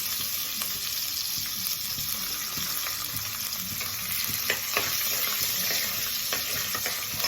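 Potato masala for poori kizhangu fries in a pan with a steady, fairly quiet sizzle as ginger is added, with light stirring clicks and scrapes scattered throughout.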